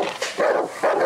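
Dogs barking in the survival horror video game Darkwood, three short, sharp barks in quick succession, close and loud, with no speech.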